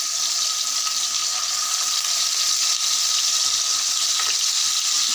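Onion and garlic paste fries in hot oil on the stove, a constant faint hiss of sizzling with no distinct clinks or voices.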